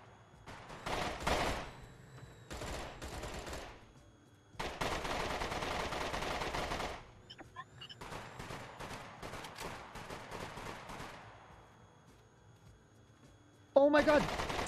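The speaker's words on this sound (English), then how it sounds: "Znime gun blazing into that police station." Gunfire erupts around a police station in the survival game SCUM, with bursts of rapid automatic shots and scattered single cracks separated by short pauses, and a sharp loud shot near the end.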